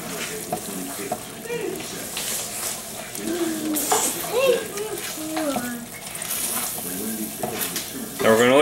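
Chimichanga meat filling sizzles and fries in a pan while being stirred, scraping and bubbling steadily, with a person talking over the cooking.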